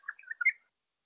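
Regent honeyeater song from a pre-2012 Blue Mountains recording: a short, clear run of chirping notes lasting about half a second, heard alone against silence.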